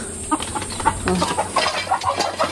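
Native chickens clucking close up in short, quick bursts, several birds murmuring together over faint background noise.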